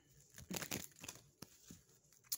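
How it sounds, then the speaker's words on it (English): Tarot cards being shuffled make soft, crisp riffling and rustling bursts, quiet and close, coming in a few uneven clusters with brief pauses between them. "we're shuffling the cards to see what happened"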